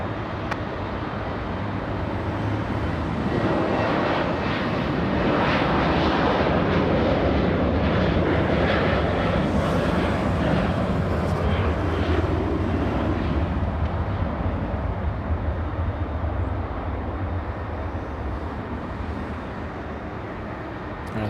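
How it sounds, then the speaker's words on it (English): A Virgin Atlantic jet airliner takes off at LAX, a loud broad roar that swells and holds for many seconds before slowly easing, heard from a distance with no voices. "Let's go for Virgin Atlantic. It's already clear for takeoff."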